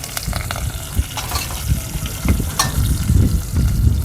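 Onions and curry leaves fry in hot oil in a pan, giving a steady close sizzle with a few crackles and stirring scrapes, with no talk over it.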